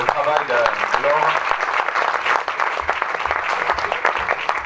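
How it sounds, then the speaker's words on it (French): Audience applause at a sports club reception honouring deserving athletes, a dense burst of clapping from a room of people, loud and close, with a voice speaking briefly at the start. "Je crois qu'on peut encore applaudir le travail de Laure."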